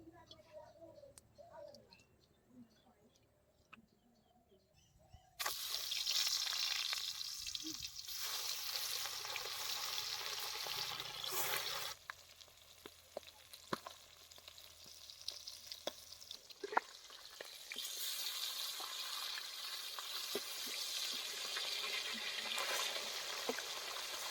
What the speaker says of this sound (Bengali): এখন আমরা মাছটা ভেজে নেব কড়াই গরম হয়ে গেছে প্রথমে তেল দিয়ে দেবো